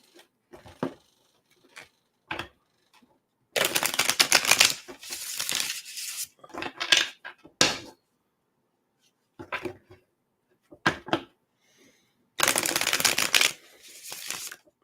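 Tarot cards being shuffled in bursts, with crisp riffling and flapping runs separated by pauses and lighter taps and slides of the deck between them, close and fairly loud, with no talking.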